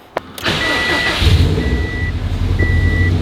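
A Subaru WRX STI cranks with a sharp click and a short starter whir, then catches and settles into a steady, close, rumbling idle while a dashboard warning chime beeps at regular intervals.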